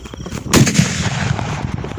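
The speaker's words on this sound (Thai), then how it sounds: "นี่เป็นระเบิดของจริงนะทุกคน" A single sharp New Year firecracker blast cracks loudly close by, followed by a short rumbling echo that fades over a second or so.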